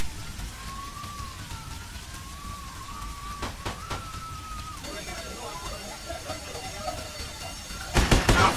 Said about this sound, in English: The sprinklers are going off.